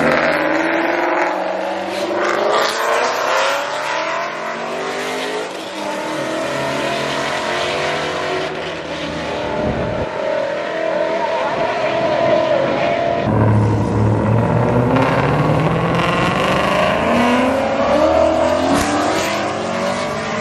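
A Corvette and a truck race at a drag strip. Loud engines rev and roar with rising and falling pitch as the vehicles launch and accelerate, then a deep, heavy rumble near the end.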